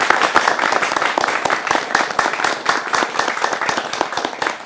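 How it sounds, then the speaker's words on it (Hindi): Loud, dense applause from a studio audience at an Indian television debate show rolls on steadily for several seconds, with no speech over it. "बहुत तेज तालियां बजनी चाहिए"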